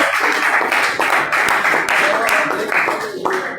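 Church congregation clapping for Jesus at a worship service, a dense burst of close, loud handclaps with scattered sharp claps, while voices carry on underneath throughout.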